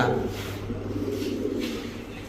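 Low, soft cooing of a Baghdadi pigeon close by, a murmuring warble repeating over faint background noise.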